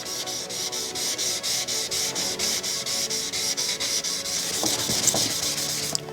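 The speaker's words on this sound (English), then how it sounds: "So listen to this noise when it's cutting the paint." Sandpaper scrubs across a painted car panel in steady rhythmic strokes, a close, continuous hissing rasp with no talking.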